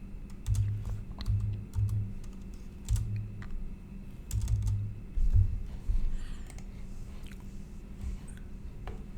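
Clicky keystrokes on a computer keyboard tap out in short irregular bursts, close and fairly quiet, with small pauses between runs and no voices.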